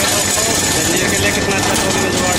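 A New Holland 3032 tractor engine running, a loud, steady mechanical drone with constant rattling texture and no pauses.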